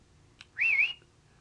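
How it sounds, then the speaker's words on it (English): A single short rising-and-falling human whistle, the kind used to get someone's or a dog's attention, sounding clear and fairly close against a quiet background, preceded by a faint brief click. "that's what you do, you just whistle this."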